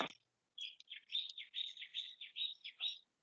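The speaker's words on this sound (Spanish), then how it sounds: "qué canta bonito se ve el pájaro" A small songbird sings a bright, continuous run of high chirps and warbled trills, close and clear against near silence, after a brief click at the start.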